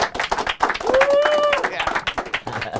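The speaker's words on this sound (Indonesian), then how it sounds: "Tepuk tangannya meriah untuk Kang El." Audience clapping at a stand-up comedy open mic in Indonesia, a steady patter of hands that runs the whole clip, with cheering and voices mixed in over it.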